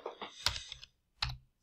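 Code typed on a computer keyboard: a short burst of close, crisp key clicks in an uneven rhythm, with a pause in the middle and no talking.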